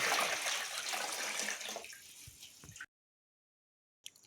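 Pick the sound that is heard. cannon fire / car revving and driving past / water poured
water poured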